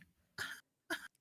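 Two sharp, close coughs from one person, about half a second apart, each a short harsh burst standing alone against near silence.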